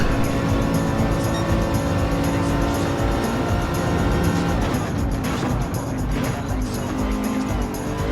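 Race car engines roar in a racing video game while the car drafts close behind an NSX, a loud, unbroken engine drone with shifting pitch throughout.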